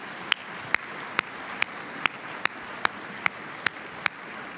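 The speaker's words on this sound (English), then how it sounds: "Let's give Secretary Heather Wilson another big round of applause." Another round of applause from a keynote audience for Secretary Heather Wilson, a steady wash of crowd clapping with sharp, evenly spaced clicks cutting through it.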